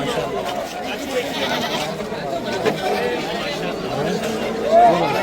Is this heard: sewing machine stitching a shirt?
no